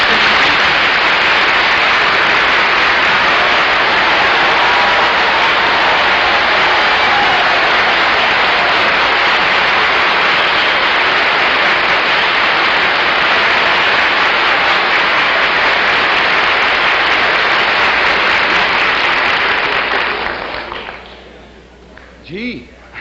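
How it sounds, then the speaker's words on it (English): Sustained applause from a studio audience greets the host of the panel show I've Got a Secret, a dense, even roar of clapping lasting about twenty seconds before it breaks off abruptly into near silence. "thank you very much for your wonderful applause"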